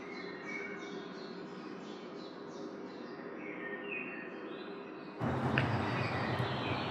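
Birds feed at a feeder, giving faint, repeated high chirps over a soft outdoor background for about five seconds, then a louder burst of broadband noise takes over.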